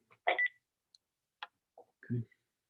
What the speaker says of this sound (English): I'm going to hang up the phone on you here then.